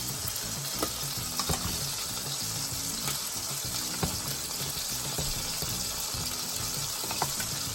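Butter sizzling and frying steadily in a hot pan while making blackened chicken pasta, a continuous crackling hiss with occasional stirring clinks, close and fairly loud with no talking.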